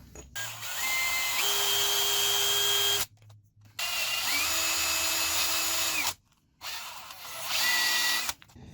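Copper pipe cutter blade being ground with a power tool, three loud sustained whining runs of about three seconds each, separated by short silent gaps, pitch shifting slightly as the tool loads and frees; no talk.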